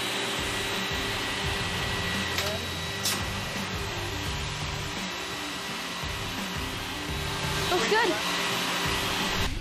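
Machine rollers run with a steady mechanical whir as a panel is pushed in by hand, droning at constant level with a brief spoken remark and a few faint squeaks.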